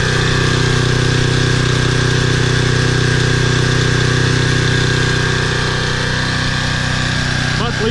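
A Toro Personal Pace 20333 lawn mower engine with a new carburetor runs steadily and loudly close by, a constant droning hum with a faint metallic edge and no change in pace.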